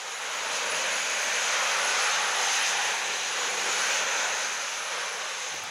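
The turbine engines of a jet pack run at their lowest setting during a first test attempt. They make a steady, loud, hissing whine that rises slightly and then settles, with no voices over it.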